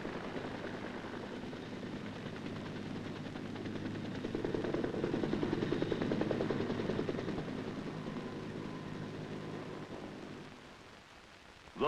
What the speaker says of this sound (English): A combined machine gun and rocket run on an area smashes the hide-and-seek tactics of the